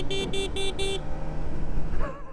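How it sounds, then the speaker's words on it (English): A 2024 Kawasaki Ninja ZX-4RR motorcycle horn beeps four short times in a quick even rhythm, loud and close, over a low background rumble. "Let me get that horn. Get a little horn action."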